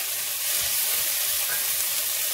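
Ginger garlic paste hits a pan of fried onions for green gram dal, a steady bright sizzle and hiss of frying close up, with no speech.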